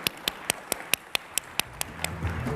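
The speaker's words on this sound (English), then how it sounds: "A big round of applause for Brett for joining us" A single person clapping at a panel discussion, about ten sharp, evenly spaced claps close to the mic, ending as a faint rumble of movement rises.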